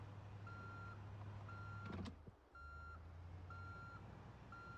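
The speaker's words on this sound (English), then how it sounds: "driving this car reverse home with its loud beeping" Vehicle reversing alarm in the zombie survival video game Project Zomboid, regular high electronic beeps repeating at even intervals over a low engine idle, with a brief door-like thud in the middle.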